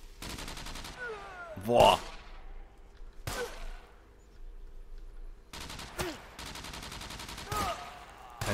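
Automatic gunfire rattles in tight bursts in the video game SCUM, tracer rounds streaking, with several loud volleys separated by short pauses; a man briefly exclaims mid-clip.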